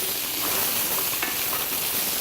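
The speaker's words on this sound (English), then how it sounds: "these have been frying for a few minutes" Baby carrots fry in a pan with turmeric and cumin, giving a steady, close hiss of sizzling oil that continues unbroken without talk.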